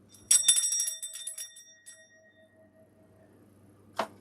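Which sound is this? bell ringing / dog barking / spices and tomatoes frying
bell ringing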